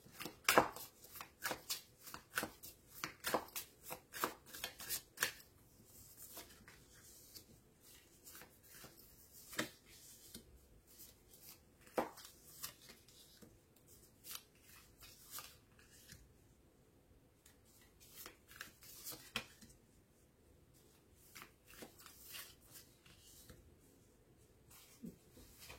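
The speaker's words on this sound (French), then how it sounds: "on va continuer avec d'autres tirages de cartes" Tarot cards shuffled and handled for a card reading, a fast run of crisp flicks and riffles early on that thins into sparser, softer card slaps and rustles, close and fairly quiet with no talk.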